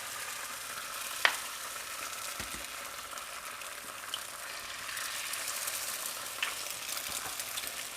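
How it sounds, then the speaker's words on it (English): Steady, close sizzling of eggs frying in a pan, with a few faint clicks and taps over the hiss. "all listen to that sizzle."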